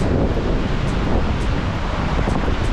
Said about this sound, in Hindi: फ्लो देखिए कितना तेज़ है और ये प्यारा सा लक्कड़ से बना हुआ ब्रिज, और यहाँ से होता हुआ पानी आगे की ओर जा रहा है।